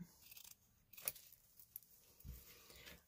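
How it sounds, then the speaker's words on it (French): Scissors cutting through fabric in a quiet room, faint close snips with soft rustling and a small metallic click, no talking. "Couper comme ça."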